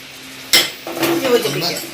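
Ground fenugreek and mustard being stirred into mango pickle, a spoon scraping and clinking against the bowl in a sharp knock, then steady close stirring with a faint voice underneath.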